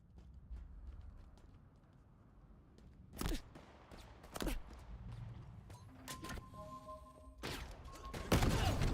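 Video game gunfire crackles in sharp scattered bursts, louder toward the end, amid footstep-like thumps and quiet background sounds.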